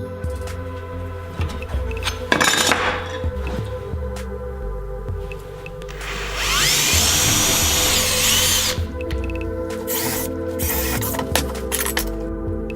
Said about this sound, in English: you can see I've got some of my holes drilled for this bracket